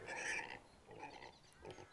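Pig oinking in a TV drama scene, a few short grunting snorts spaced apart, moderately close and fairly quiet.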